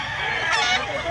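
A six-year-old rooster offered for sale at a market in Mantalungon, Cebu, lets out a single loud, close, hoarse squawk or partial crow lasting about a second.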